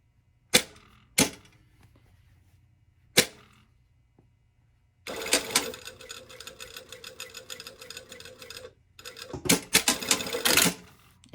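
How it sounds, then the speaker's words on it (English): Domestic sewing machine stitching a quarter-inch seam across the bottom of a shirtdress sleeve, a few sharp clicks first, then a steady mechanical whir of running stitches with a short pause before a final burst. "I'm just going to sew it like 1/4 inch right across the bottom of the sleeve right there"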